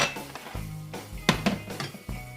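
A metal frying pan is lifted and set down on a kitchen stove while stir-frying salmon with broccoli and almonds, giving several close, sharp clanks and clinks in an irregular rhythm.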